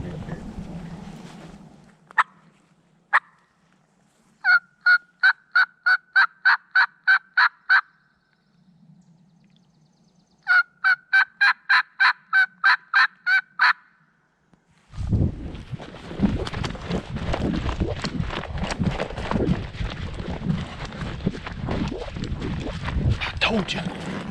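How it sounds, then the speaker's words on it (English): A wild turkey gobbler in Georgia spring woods gobbles in two loud rattling bursts from a fair distance, followed by hunters talking quietly over wind noise. "Gobbler gonna be up here"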